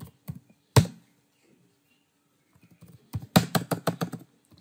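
Commands typed on a computer keyboard while configuring network equipment: a few isolated key taps, then a quick rapid run of close, crisp keystrokes in a quiet room.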